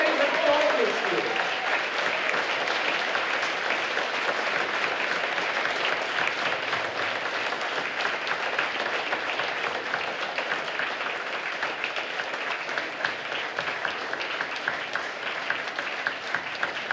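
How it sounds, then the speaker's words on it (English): Steady audience applause for high school jazz band students at a school jazz concert, a dense, even wash of clapping from many hands that holds without a break from start to finish. "a big round of applause for everything they have done this year"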